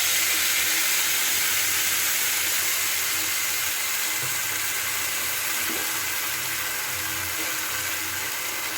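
Whole cumin seeds and ground spice paste hitting hot oil in a pan for a Bengali potol kalia, giving a steady, bright sizzling hiss that holds evenly throughout.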